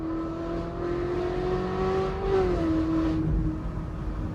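Ferrari 458 Spider engine revving under acceleration on the street, a steady high-pitched exotic wail that climbs slightly and holds, heard from inside the car at moderate level with no talk.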